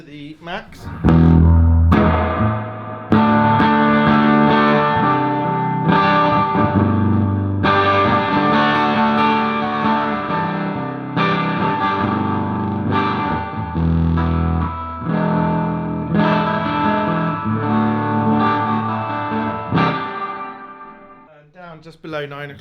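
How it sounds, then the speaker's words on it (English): An electric guitar plays through a Magnatone Twilighter amp with reverb turned to maximum. Loud strummed chords and notes ring out with long, lush washing tails, separated by short gaps, and the last chord fades away. "So as you heard, plenty of lush reverb."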